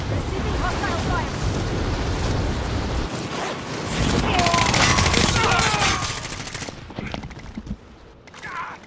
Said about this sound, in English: Receiving hostile fire.